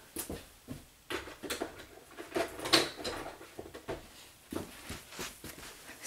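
Eyebrow pencil being turned in a small sharpener, a close run of scratchy, irregular scraping and tapping bursts lasting several seconds with no talk.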